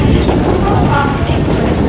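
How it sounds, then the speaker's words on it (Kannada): A train runs at Thane railway station in Mumbai, a loud, close, continuous rumble and rattle of carriages that holds steady throughout, with faint crowd noise mixed in. "ಠಾಣೆ ಮುಂಬೈ ಠಾಣೆ ರೈಲ್ವೆ ಸ್ಟೇಷನ್"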